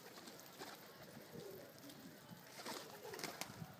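A Ghaghra racer pigeon in a rooftop loft cooing faintly among other birds, soft low coos repeating under a steady outdoor hiss with faint background voices.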